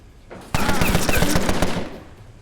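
Rapid burst of machine-gun fire in Empire of Sin, a loud, dense rattle of shots lasting about a second and a half before cutting off, with no talk over it.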